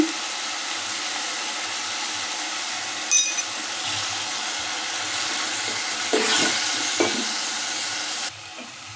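Ginger paste frying in a pan for chicken curry while being stirred, a steady close sizzle with a few scraping stirs partway through, no talking.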